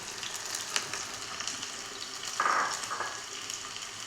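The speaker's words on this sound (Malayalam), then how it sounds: "ഇനി നമ്മൾക്ക് ഒരു ചെറിയ സവാളയുടെ പകുതി കഷ്ണം ചെറുതായി മുറിച്ചത് ഇട്ട് കൊടുക്കാം." Finely chopped half onion frying in hot coconut oil for a prawn curry, a steady close sizzle with a brief louder hiss partway through.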